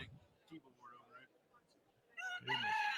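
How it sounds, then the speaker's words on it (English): A rooster crow sound effect from a soundboard plays loudly near the end after quieter, scattered sounds and a brief voice at the start. "I just heard a Rooster Crow in here."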